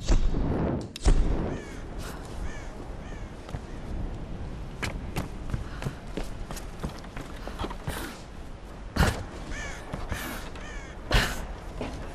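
Crows caw repeatedly in the video game Tomb Raider, sharp harsh calls spaced through a rumbling ambient background, some near and loud, others fainter.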